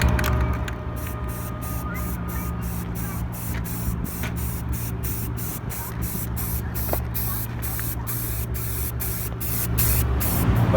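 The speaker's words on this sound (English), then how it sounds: "we're just going to give it a quick spray paint to brighten up the color" An aerosol can sprays yellow safety paint onto a roadside bollard in a rapid train of short bursts over steady outdoor traffic hum and background noise.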